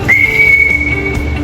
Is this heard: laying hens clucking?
no